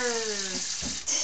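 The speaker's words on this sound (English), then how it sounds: "Okay, turn off your water." Kitchen tap water running in a steady gush, then shut off within about a second, close and fairly loud, with a faint voice briefly under it.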